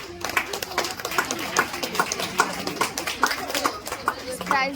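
An audience at a hospital program applauds before a prize distribution, scattered claps running steadily beneath a person talking.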